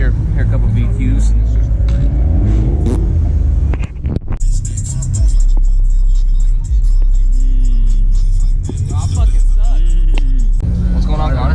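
Several Nissan VQ-engine cars idle at a car meet, a steady low rumble running throughout with people talking over it.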